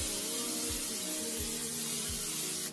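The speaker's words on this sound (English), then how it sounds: "spray the corn tortillas with some olive oil" Short, soft bursts of olive oil spray onto corn tortillas repeat at a steady pace, four quick hissing puffs close to the microphone in a quiet room.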